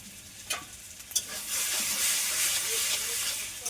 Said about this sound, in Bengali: চিনিটা দিয়ে আমি ভালোভাবে নেড়ে চেড়ে নেব।